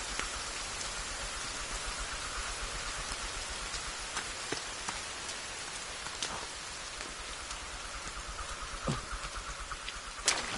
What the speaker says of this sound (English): Here comes the rain.